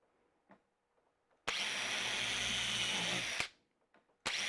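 A power drill drives a screw into wood in one loud, steady whir lasting about two seconds, stopping abruptly, with a second burst starting at the end, all close up and without talk.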